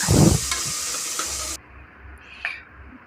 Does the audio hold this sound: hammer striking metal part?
no